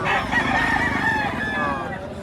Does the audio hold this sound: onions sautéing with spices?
no